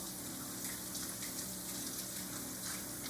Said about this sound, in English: Then stick your mitts back under the water,